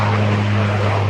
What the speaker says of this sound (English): And the arrival of an aircraft now.